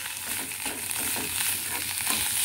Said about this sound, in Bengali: এবার চিংড়ি মাছটা দিয়েও আমি আরেকবার এরকম করে খুব ভালো করে ভেজে নেব।